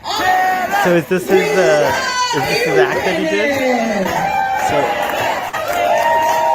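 At a Star Trek cruise event, a lively crowd cheers and shouts continuously and loudly, with people talking close by over the din.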